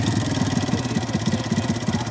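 A motorcycle engine runs close by during a riding lesson, a pulsing mid-pitched chug that throbs steadily through the short stretch with no voices.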